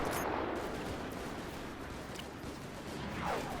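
Soldiers fire a musket volley in the Mount & Blade Parabellum mod, heard as a dense, rumbling crackle of massed gunfire that runs steadily through the whole stretch, with no voices over it.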